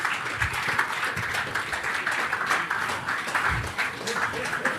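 Audience applause at a 65th birthday celebration for Richard Mofe-Damijo, a steady wash of clapping that runs through the whole stretch with a few louder low thumps, fairly close and dense.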